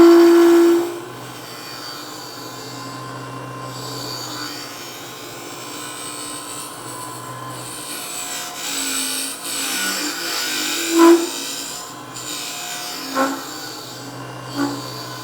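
Boxmaster negative rake scraper with a smooth, unserrated edge shaving a wood surface, soft, steady scraping with a low drone underneath and a few brief louder accents.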